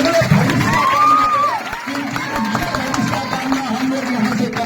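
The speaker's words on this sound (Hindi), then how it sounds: "इसका हौसला बुलंद करने के लिए आप लोग इनको जोरदार ताली लगाएं" Audience at a school Class 10 award ceremony honouring a district topper cheering and shouting, loud and continuous throughout, with crowd voices and some clapping mixed in.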